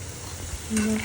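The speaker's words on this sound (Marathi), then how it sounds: "चांगल्या पद्धतीने सगळं तळत आहे. चांगलं परतून घ्या." Onions frying in a pan with turmeric as they are stirred, a low steady sizzle with a brief brighter stir and scrape near the end, close and quiet, no voices.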